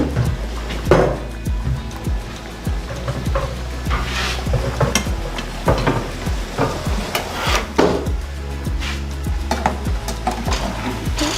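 Cooked dried beans are pushed through a food mill for bean soup, giving steady, rhythmic metallic scraping and clicking with scattered clatter. The sound is close and fairly loud, with no talk over it.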